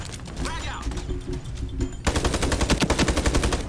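Gunfire in the online shooter Ironsight: scattered sounds and quieter shots at first, then a loud, rapid automatic burst that keeps rattling evenly to the end, with excited voices nearby.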